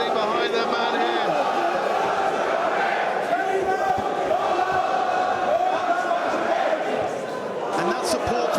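Fans at a cage fight in Manchester cheer and shout in a loud, sustained crowd roar, with scattered sharp claps and yells, and a commentator's voice runs over the noise.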